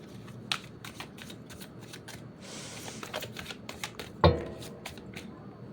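Tarot cards are shuffled close by in a quiet room, a series of quick, soft riffling flicks and taps coming in bursts, with one sharper knock near the end.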